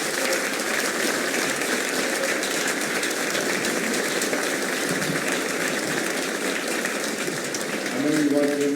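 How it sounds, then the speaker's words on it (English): A debate audience at a chamber of commerce candidate forum gives sustained, dense applause that stays steady throughout, with a voice beginning to speak near the end. "Please give all three candidates a round of applause."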